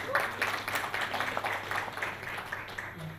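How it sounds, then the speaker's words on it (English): A conference audience gives a round of applause, scattered claps rising and thinning over a few seconds at moderate volume. "Please round of applause."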